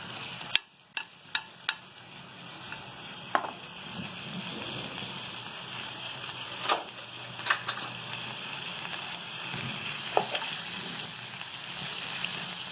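Chicken and masala frying in a pot over medium-low flame for smoky biryani: a soft, steady hiss and sizzle, with occasional clinks of a spoon against the pot, close and fairly quiet, no talking.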